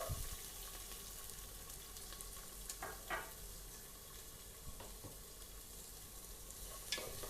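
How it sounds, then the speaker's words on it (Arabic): Onions fry in melted ghee for a red chicken kabsa, making a faint, steady sizzle with a few scattered stirring scrapes. "أول شيء أنزل السمنة، خليها تذوب شوي واحمسها مع البصل"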